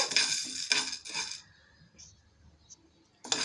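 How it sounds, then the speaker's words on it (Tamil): Urad dal dry-roasts in a pan while a metal spoon stirs it, giving three close, scraping bursts that fall into near silence, then one final scrape. "உளுந்தம்பருப்பையும் நல்லா வாசம் வர்ற வரையும் பொன்னிறமாக வர்ற வரையும் வறுத்து எடுத்துக்கலாம்"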